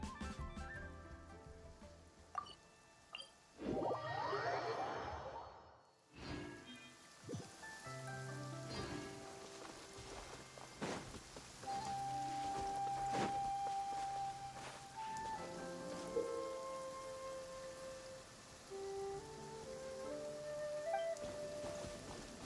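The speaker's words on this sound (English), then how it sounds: "I wish it wasn't raining." Soft steady rain falling in the video game Genshin Impact, a gentle patter under game music and chimes, with a louder burst of effects partway through.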